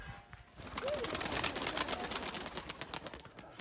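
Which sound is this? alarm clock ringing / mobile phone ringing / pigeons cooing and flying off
pigeons cooing and flying off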